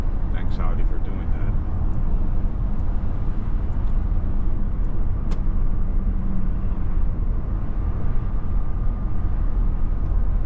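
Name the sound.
Audi e-tron driving on a road with traffic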